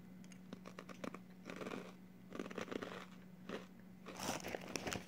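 Nongshim Honey Twist snacks crunch loudly and close up, with bursts of crisp biting and chewing repeating in uneven bunches and no talk.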